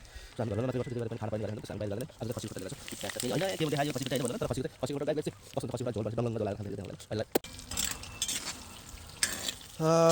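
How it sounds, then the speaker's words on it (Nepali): Food fries and is stirred in a karahi (wok), with steady sizzling and scraping running beneath a voice that talks almost throughout. "बुढीले बनाउँदैछन्, भुट्दैछन् कराईमा"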